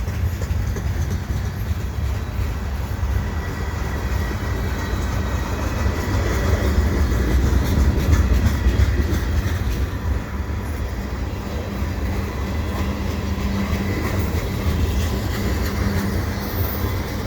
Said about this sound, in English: CN train because that seems to be moving faster.